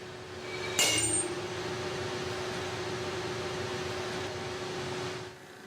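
A 60,000-pound tensile testing machine pulls an aluminum scuba tank coupon apart: one sharp metallic snap, then a steady mechanical hum that carries on and cuts out near the end.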